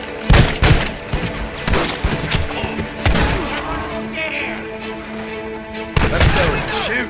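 Gunfire rattles through a Red Dead Redemption battle in a repeated series of sharp shots, some close and loud, with bursts in clusters and gaps between, while voices shout over the shooting.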